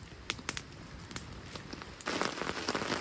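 Steady rain patters on a surface close by at a remote mountain lake campsite, with scattered individual drops, and the downpour grows noticeably heavier partway through.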